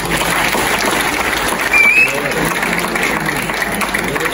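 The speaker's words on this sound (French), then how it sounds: "je vous demande de faire un tonnerre d'applaudissements" Thunderous audience applause at a literary celebration, a loud dense wall of clapping held steady throughout, with a brief whistle-like tone and crowd noise mixed in.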